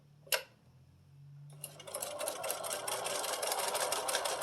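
Sewing machine stitching binding onto a small quilted wall hanging block, starting after a click and faint hum into a steady rapid mechanical whir that runs continuously, close and moderately loud.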